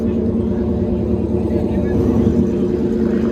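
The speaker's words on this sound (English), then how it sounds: "Kind of hard to hear with that Mustang behind us" A Ford Mustang engine rumbling at a McLaren dealership lot, a steady low throaty drone close behind people talking.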